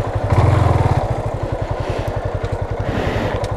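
A Yamaha Fazer motorcycle engine idles nearby with a fast, even thumping pulse, loud and steady throughout with no speech.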